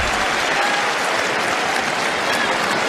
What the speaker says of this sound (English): Some enthusiastic fans in the crowd, really making their presence felt as well